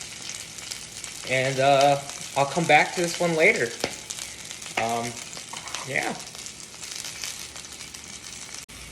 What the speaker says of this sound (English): so it really cooks in there with the salmon